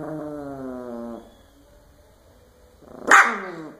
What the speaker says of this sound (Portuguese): Ai, que cachorro nojento